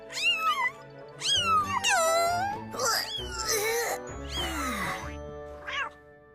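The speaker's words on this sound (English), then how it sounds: "3 adorable kittens." Several high, wavering meows in quick succession, close and fairly loud, with a few overlapping cries like young kittens calling.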